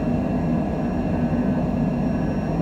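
A Longitude business jet in a flight simulator game roars steadily during its takeoff roll, a continuous broadband engine rumble with no voices.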